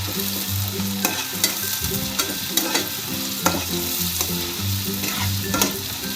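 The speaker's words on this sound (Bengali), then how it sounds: "এবারে আদার পেস্টটা দিয়ে দিলাম আবারও একবার নেড়ে নিলাম" Ginger paste sizzles steadily in a hot pan for a chicken kosha, with a spoon scraping and stirring in irregular knocks over the continuous frying hiss; no voices.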